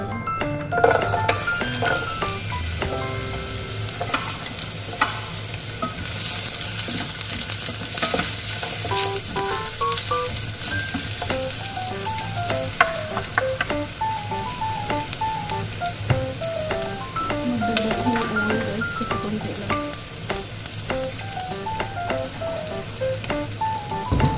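Garlic and onion sizzling in a hot pan, a steady crackling fry with scattered pops and occasional stirring, close and continuous.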